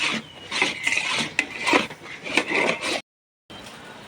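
A thick paste of mung beans and taro for a Thai dessert is stirred in a pan, producing close rhythmic scraping and rubbing strokes that stop briefly near the end before resuming.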